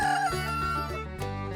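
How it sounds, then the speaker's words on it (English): A rooster gives a single loud, sustained crow at close range, with no talking. "rooster,"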